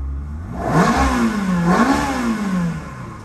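A 2003 Ferrari 360 Spider's engine revs twice, the pitch climbing and dipping and then swelling again in two loud, close sweeps before dropping away.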